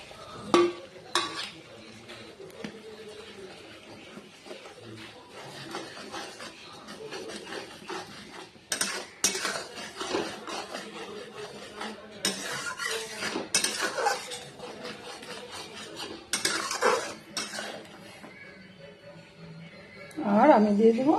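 Masala fried with onion paste and stirred in a pan for a prawn curry, giving intermittent scraping and metallic clinks of a spatula against the pan under steady talk.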